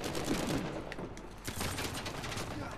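Rapid pistol gunfire in Uncharted: The Lost Legacy multiplayer, a loud burst of shots fired in quick succession as a full magazine is emptied, with a few more sharp cracks after it.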